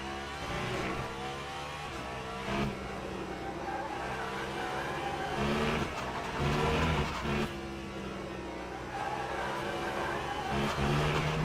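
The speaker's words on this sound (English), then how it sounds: "Those revs are a little bit high. A little bit of patience on the downshift." A race car in the Le Mans Ultimate racing sim revs high and downshifts, with a loud, steady engine drone broken by repeated rises and drops in pitch.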